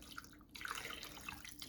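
Chicken-flavored ramen broth poured into a slow cooker over chicken gives a short, soft liquid trickle and splash, faint and close, with no talking.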